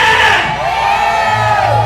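A protest crowd in the Philippines shouting and chanting for Marcos to resign, a loud, dense mass of yelling voices that keeps up steadily with no pause.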